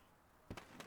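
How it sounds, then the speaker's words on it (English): Video game fireworks in City of Heroes pop in two quick crackling bursts after a quiet start, fairly faint and without voices. "No, it looks like it's just fireworks."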